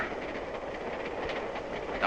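Steady rumble and hiss of a moving train carriage heard from inside, continuous and even with faint rhythmic clatter beneath, no voices.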